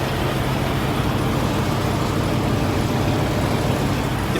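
Steady low engine rumble, continuous and unchanging, from a semi truck diesel idling nearby at a truck stop, with no voices.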